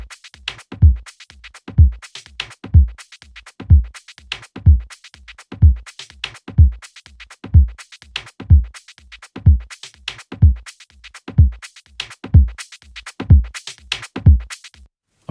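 Synth played through a second resonant filter in Logic Pro, pulsing in a steady repeating pattern of about sixteen soft swells with bright filtered sweeps on top, even and dry with no voice.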